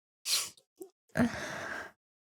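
Sneezes in a meme compilation: a sharp, breathy burst, then a couple of short small ones, and finally a loud, drawn-out, forceful sneeze, all close and clear against silence.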